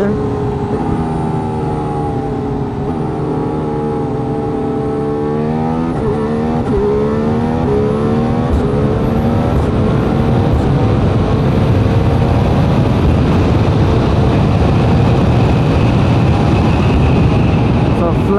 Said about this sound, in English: Flat out down the straight, 8th gear